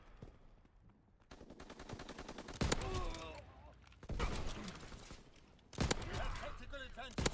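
Video game gunfire: rapid automatic bursts that come in three loud clusters, with sharp single reports and spoken game lines mixed in.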